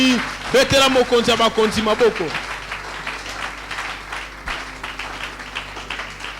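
Church congregation at a Sunday worship service applauding and acclaiming the Lord, a burst of clapping and cheering voices that peaks early and then settles into scattered, softer applause and murmuring.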